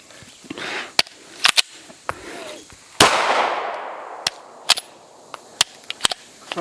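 Sharp gunshots from a Springfield Echelon pistol during a mud torture test, several spaced single reports with one loud blast near the middle trailing a long decaying echo, faint talk in the background.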